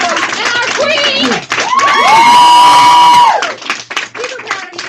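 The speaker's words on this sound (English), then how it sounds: "Give them all a round of applause, you guys." An audience at a company success night erupts in clapping, whoops and high shouts and screams, loud and close, with a long sustained scream in the middle and talk around the cheering.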